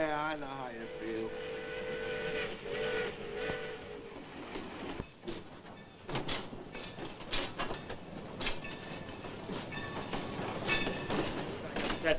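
A freight train pulls into a rail yard with a steady rumble, a drawn tonal whine, and then irregular clanks and rattling wheels on track, while voices talk intermittently.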